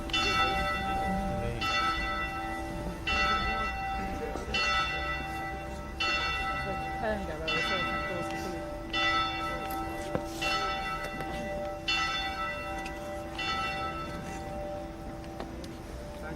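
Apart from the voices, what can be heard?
church bell tolling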